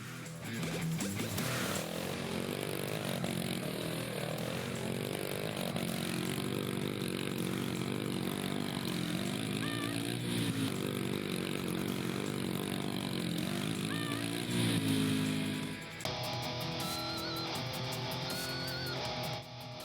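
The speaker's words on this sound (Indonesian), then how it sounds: "kita kasih jajal motor trail Matic modifan" Modified automatic trail motorcycle engine revving hard and continuously, a loud buzzing rasp rising and falling in pitch, then dropping to a lighter idle near the end.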